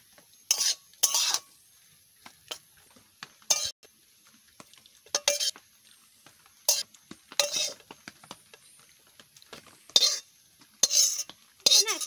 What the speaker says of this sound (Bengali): আমি একটু বড় চামচ দিয়ে সাইড করে নিচ্ছি